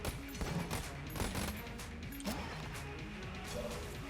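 Rapid bursts of Pulse Cannon fire from the video game Enter the Gungeon crackle in repeated volleys, mixed with game music and impact effects throughout.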